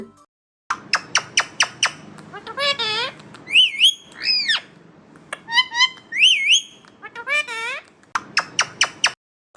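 A parrot-like bird sound effect gives bright repeated whistling chirps and rising squawky calls in bursts, loud and close, against a quiet backing.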